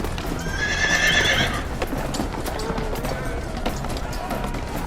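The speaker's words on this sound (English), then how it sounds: "Cavalrymen spur their horses and charge into the middle of the raging clash" Cavalry horses in a tabletop battle game scene charge amid a raging clash, with a loud whinny early on over continuous thudding hoofbeats and general battle noise throughout.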